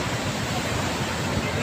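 Strong sea waves roaring steadily at a swimming spot, a dense, loud, unbroken wash of surf noise with wind buffeting the microphone and no clear voices.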